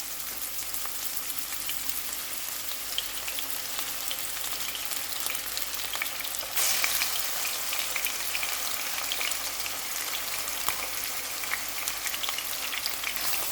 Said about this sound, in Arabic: هنزل بالفراخ بتاعتي اللي انا متبلاها ملح وفلفل وعصير بصل